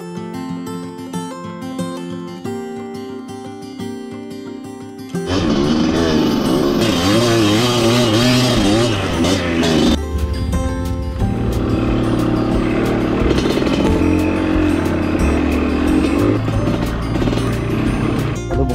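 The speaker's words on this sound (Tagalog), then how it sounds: "Ang luwag na ng makina ko, pati chassis ay ano, tambutso. Iba na tunog." A close, loud motorcycle engine with a loose engine and exhaust revs and drones on a trail in General Nakar, rough rattling exhaust, preceded by a few seconds of quieter tonal background.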